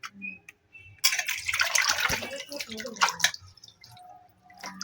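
Pabda fish being rinsed in water, with splashing and dripping bursts around the middle between quieter pauses, close by and with no talk.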